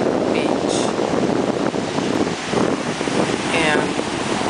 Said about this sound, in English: the waves are really rolling in.